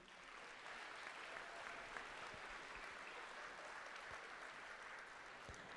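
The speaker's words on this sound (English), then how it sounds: "Round of applause, please." Audience applause at a miniature painting convention awards session, a soft, steady wash of many hands clapping that carries on for several seconds, distant and fairly quiet, with no talking over it.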